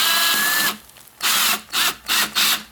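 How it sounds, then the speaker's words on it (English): A screw gun tightens a hose clamp around glued wood rings for a turned lighthouse: a loud whirring run, a pause, then three short spurts close up. "I'm just going to take this screw gun and the hose clamp"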